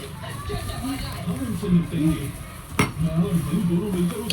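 New steel spoons and kitchen utensils clink and rattle together in a close, busy jumble, with a sharper metallic knock partway through, while people talk over it.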